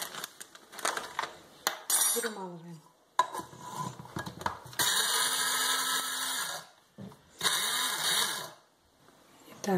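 Small electric grinder milling eggshell, feed chalk, flour, oats and dried gammarus into fine powder for a snail calcium mix, heard as loud sustained whirring bursts separated by clattering, tapping and brief pauses.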